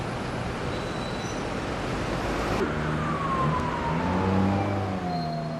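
Routemaster RML 2549, a London double-decker bus from 2005, arriving on a busy street, a loud steady engine rumble with a falling whine as it slows and pulls in, and constant traffic noise around it.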